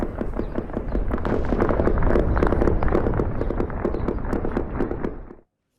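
A dense, continuous barrage of crackling bursts and booms rolls on for over five seconds as explosions go off one after another at an oil terminal, loud and sustained before cutting to silence.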